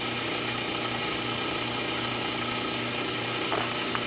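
An AC flat rotor motor fed from a variac runs with a steady, dense whir and hum, constant and fairly loud throughout, with a faint tick near the end.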